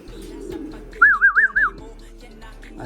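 Racing pigeons, a red check and a black check, give one clear warbling coo of about four quick pulses over faint background hum, no voices.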